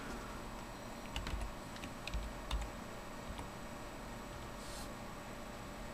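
Faint keyboard typing during a Windows Vista setup, a few soft keystroke clicks clustered early on under a steady background hiss, then mostly just the hiss.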